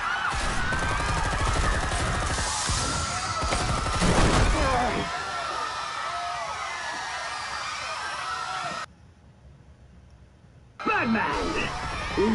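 Loud, dense bursts of gunfire ring out in the Batman Telltale Series game, with heavy shots clustered in the first few seconds, then a busy action mix that briefly drops out before resuming.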